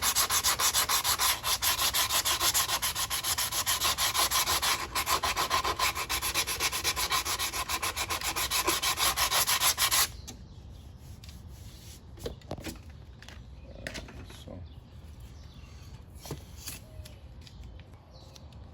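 Steady, loud abrasive grinding on car bodywork runs for about ten seconds, then cuts off, leaving quieter intermittent scraping and small knocks.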